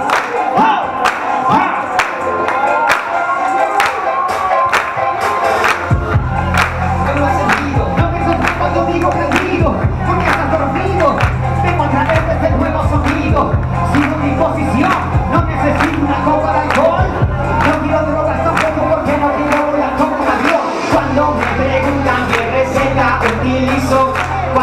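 At a live rap show by Calibre M in Asbury, Flores, a crowd claps along in a steady, even rhythm over a thumping bass beat that enters partway through, the claps loud and close.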